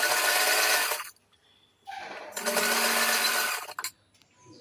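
A sewing machine stitches a folded fabric strip on a child's bandhani dress in two loud, buzzing runs, the first about a second long and the second longer, separated by a short pause with faint handling noise.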